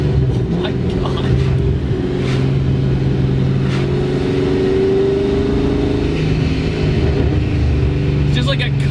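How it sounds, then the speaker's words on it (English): Steady wind and road roar inside a moving 550 hp supercharged C7 Corvette, with a low engine drone underneath, loud and constant throughout. "It's just like a constant wind noise."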